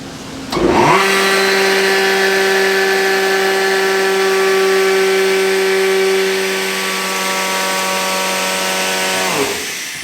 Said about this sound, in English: Now we're gonna fire up the blower.